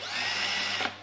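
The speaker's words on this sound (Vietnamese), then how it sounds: "cái này mình đang khoan chế độ bê tông" A power drill runs steadily in concrete mode for about a second, a loud continuous whine that ends with a brief change in pitch near the end.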